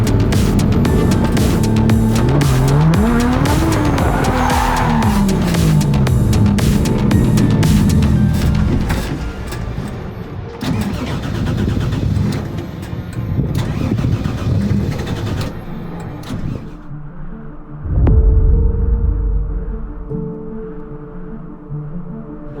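A Nissan Skyline R33 drifting in second gear: a loud, continuous engine note rising and falling through revs, then dropping to a lower rumble with a brief sharp surge near the end.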